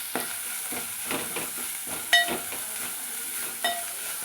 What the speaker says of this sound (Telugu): ఇప్పుడు బీరకాయ వేద్దాం ఒకసారి బీరకాయ మొత్తం కలుపుకుందాం